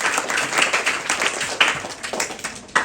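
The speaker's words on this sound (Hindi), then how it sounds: "ताली बजाओ" An audience claps together through a spiritual talk, a dense patter of many hands with a few sharper, louder claps standing out near the end.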